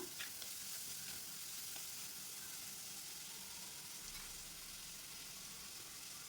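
Small onions sauté over medium heat in a pan for a Kerala prawn roast, giving a soft, continuous sizzle and hiss, fairly quiet and even throughout, with no voices.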